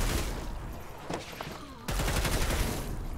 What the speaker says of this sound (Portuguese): Ah, não testei a carabina automática ainda, né? Vamos dar um rajador.